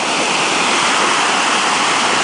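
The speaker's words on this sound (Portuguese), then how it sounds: "Isso tudo da força da água dessa incrível cachoeira." Cachoeira dos Padres waterfall in Marmelópolis, Minas Gerais, pours with a dense, loud, unbroken roar of rushing water, heard up close and alone.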